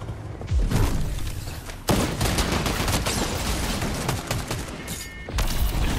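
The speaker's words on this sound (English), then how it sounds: "I just realized I'm getting shot at." Gunfire in Fortnite ranked play, a busy barrage of sharp shots and heavy thumps in bursts, loud and close with brief lulls between volleys, no talk.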